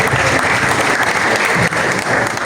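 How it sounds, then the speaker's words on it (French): An audience applauds a speech at a ceremony held by African students, a dense, sustained wash of clapping that stays loud and even. "Est-ce qu'on peut continuer à acclamer pour ce discours mémorable?"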